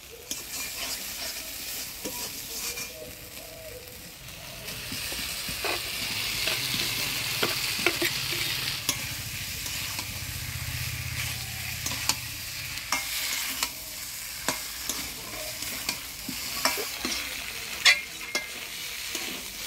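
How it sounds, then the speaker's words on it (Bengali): Potatoes are stirred into a spiced masala and fried in a pan, giving a loud, steady sizzle with repeated scraping and clinking of the spoon throughout, heard up close with no talking. "মশলাটা ভালো করে কষাই নিলাম, এবার ভাজে রাখা আলুগুলো দিয়ে দিব।"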